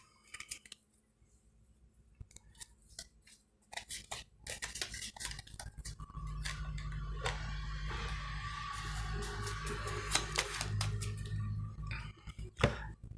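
Tarot cards being gathered and rearranged on a table, heard as scattered soft clicks, taps and shuffling handling noises, sparse at first and then denser over a steady low background hum, with no talking.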